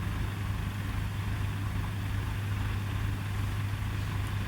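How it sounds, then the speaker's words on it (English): A tractor engine runs steadily during hay baling, driving over a row of raked hay in a field, with a low constant drone and a rhythmic deep thumping pulse underneath. "the way the tractor runs right over that, the row of raked hay"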